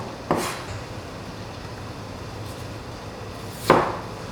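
A knife chops potatoes on a cutting board, cut to an even size for a soybean-paste pumpkin-leaf wrap dish; two separate sharp, close knocks with quiet pauses between and no talk.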